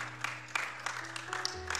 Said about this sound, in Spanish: Dele palmas al Señor Jesús.